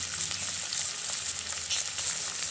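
Potato pieces and chillies dropped into hot oil in a pan, giving a loud, dense, continuous sizzle up close with no voices.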